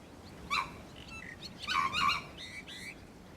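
A Sri Lanka junglefowl gives a raucous, hoarse crowing call in two bursts, the second longer and stronger, over a soft background hiss with no voices.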